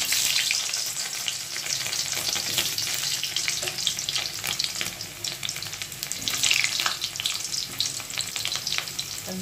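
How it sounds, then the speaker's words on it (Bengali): Boiled potatoes frying in hot oil to brown lightly, a loud, continuous close sizzle with occasional crackling bursts and no talking. "আলুটাকে একটু হালকা ফ্রাই করে নেব, ব্রাউন কালার করে"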